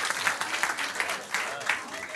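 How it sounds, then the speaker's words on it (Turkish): Audience applause at a quiz night, a short burst of clapping with a few rhythmic peaks, fairly faint and mixed with murmuring voices in the room. "Falan çakrasını da bir alkışlayalım lütfen."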